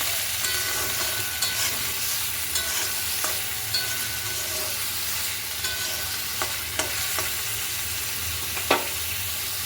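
Grated carrot and beetroot frying in a pan for a homemade vegetable chop, a steady loud sizzle broken by occasional spatula scrapes and taps, close by with no voices.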